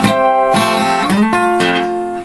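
Acoustic guitar playing the fast second bar on the top four strings, a quick run of bright plucked notes and strums, close and loud, ending abruptly.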